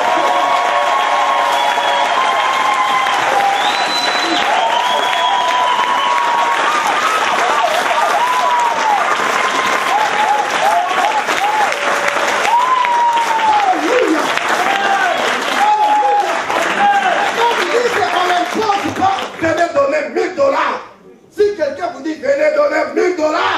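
A church congregation applauds and cheers God in sustained, loud clapping and crowd noise mixed with voices and some shouts, fading briefly near the end before resuming.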